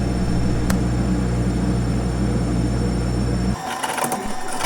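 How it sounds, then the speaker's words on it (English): A wood lathe spins a birch burl piece set with blue resin at low speed, giving a loud, steady mechanical hum with a constant whine that cuts off abruptly near the end. "I actually turn the piece at a very low speed."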